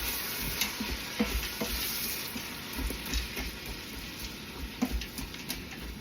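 Frozen purple hull peas get stirred in a pot, soft irregular scrapes and clicks of a spoon over a faint, steady background hiss, quiet and close.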